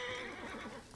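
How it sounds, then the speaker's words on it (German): A horse neighs in the video game Assassin's Creed Origins. The whinny is loud and full and lasts about a second, set over dense game sound. "Ich sehe vier Pferde."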